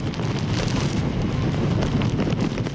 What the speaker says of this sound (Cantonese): 天氣已經突然間轉差㗎啦，風勢同埋雨勢對比大概1個鐘頭之前已經係有增無減